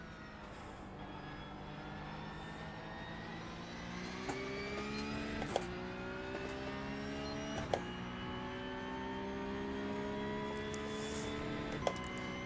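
A Porsche Cup race car engine in the iRacing sim racing game at Fuji, a steady mid-loud drone with rising harmonic pitch sweeps as it accelerates through gears, punctuated by sharp upshift clicks, running alone without talk.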